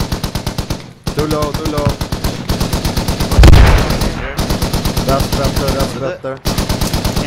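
Rapid bursts from a .50 cal heavy machine gun in the Squad military shooter, loud repeated rattling volleys broken by short pauses, with a voice speaking briefly between bursts.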